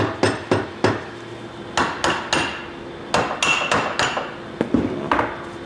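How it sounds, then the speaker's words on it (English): A plastic hammer taps the sides of a piston in a Chevrolet 454 big block engine, giving a series of sharp, close knocks in uneven bursts with short pauses between them and no talking. "We're gonna take a plastic hammer and just tap the sides of it here."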